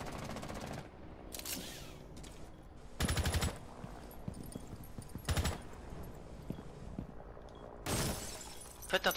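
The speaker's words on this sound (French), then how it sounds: "Tirez beaucoup ici, comme ça ça fait un trou" Short, loud bursts of automatic fire in a PlayStation 4 shooter, blasting a hole through a wall, with four separate rattling volleys split by quieter gaps and a couple of sharp single cracks at the end.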